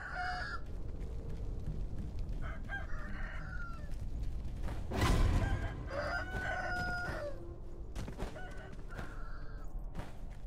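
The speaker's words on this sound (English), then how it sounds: "So many chickens." Chickens clucking and a rooster crowing in the Sekiro video game, several repeated crows and clucks over a steady busy background, moderately loud and close, with no talk.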